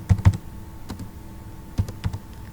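Keys are tapped on a computer keyboard while entering column headers in MS Excel 2016, heard as a few close, crisp clicks in small bursts separated by short pauses.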